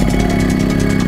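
A motorcycle engine idling close by, a steady throbbing mid-pitched rumble with a regular pulsing vibration and no voices.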